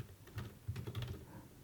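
Quiet keystrokes on a computer keyboard, a short burst of soft irregular taps close by with no voices.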